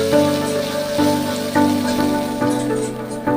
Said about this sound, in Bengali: বাঁধাকপি পেঁয়াজ রসুন সব কিছু একসঙ্গে নিয়ে নেড়ে চেড়ে ভেজে নিতে হবে